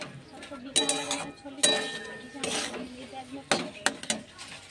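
A spoon scrapes and clinks against a pan while a red-tinged coconut mixture is stirred continuously, rhythmic metallic knocks and scraping strokes close by, with a voice talking intermittently over them.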